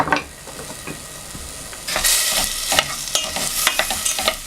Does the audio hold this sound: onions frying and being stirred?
yes